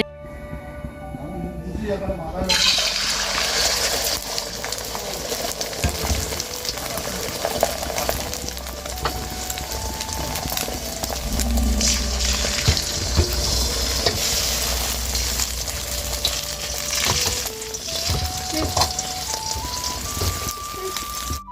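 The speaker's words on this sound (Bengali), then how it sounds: "এখানে ডিম ভাজবো বলে দুইটা ডিম ফাটিয়ে নিয়েছি" Two cracked eggs frying in a pan give a continuous close sizzle and crackle that starts abruptly and runs throughout, with a voice talking and faint tonal background sounds mixed in.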